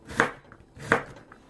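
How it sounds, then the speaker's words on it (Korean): Two crisp knife strokes slice through radish against a cutting board, each a sharp close crunch about three quarters of a second apart, with no voices. "그렇게 썰어 주겠습니다"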